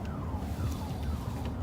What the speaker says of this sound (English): Hear the alarm?